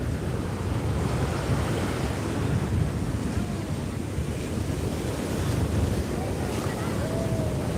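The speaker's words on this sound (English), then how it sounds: "Pretty decent surf today." Waves breaking along the shore at Cocoa Beach make a constant roaring wash, mixed with gusty wind noise on the mic, steady throughout with no clear speech.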